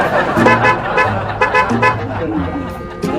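A loud aftermarket car horn on a Bosch relay sounds in several short honks, with a person talking in between.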